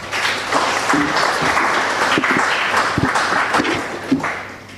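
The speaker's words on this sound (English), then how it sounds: "Let's clap one more time for the family." An audience at a celebration-of-life memorial gives steady, continuous applause for several seconds, with dense clapping throughout and no speech over it.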